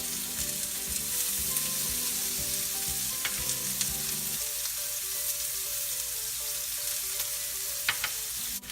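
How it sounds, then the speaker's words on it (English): Onions frying in a pan for smothered pork chops give a steady, close sizzle throughout, with occasional utensil scrapes and taps from stirring over a low, droning hum. "We want to cook the onions until they're caramelized for about 15 minutes or so"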